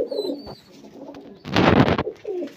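Endurance flying pigeons coo softly nearby, a low rolling coo at the start and again at the end, broken midway by a brief loud rushing burst like flapping wings.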